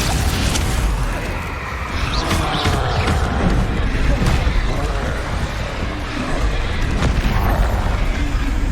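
Spell-combat blasts from the video game Hogwarts Legacy, a Confringo fire spell exploding among other spells; dense, continuous booming and bursting impacts fill the whole stretch loudly, with overlapping crashes and no clear pauses.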